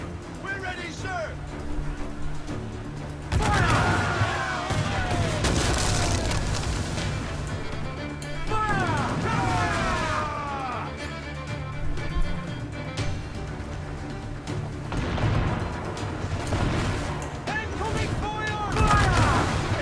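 Heavy-shot cannon broadside from a sailing ship in Assassin's Creed IV: rumbling booms and crackling gunfire roll under continuous talking, with battle noise throughout.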